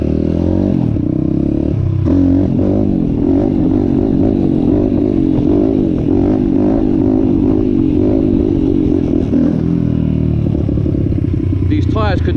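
An Apollo RFN 140cc pit bike, freshly built out of the box, runs close by with a loud, steady engine drone that rises and falls through revs, climbing sharply near the end.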